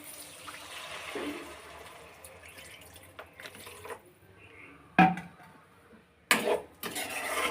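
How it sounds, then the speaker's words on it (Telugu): Water is poured into an egg and brinjal curry in a pan, giving soft splashing and bubbling with a couple of sharper pouring bursts near the end. "వాటర్ వేసుకొని"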